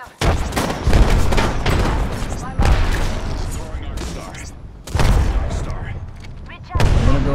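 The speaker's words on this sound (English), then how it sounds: "Getting shot at." Apex Legends gunfire: several loud, close bursts of shots and booming impacts arrive in separate waves with short gaps, while a voice talks over the action.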